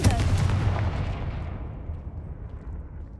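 A Confringo blasting spell explodes in the video game Hogwarts Legacy as a deep, rumbling boom that hits hard at the start and fades over about three seconds.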